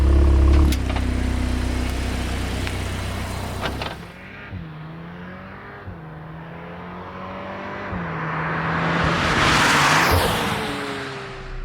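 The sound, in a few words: Audi S3 car driving in normal mode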